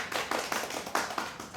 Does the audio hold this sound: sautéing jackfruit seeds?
no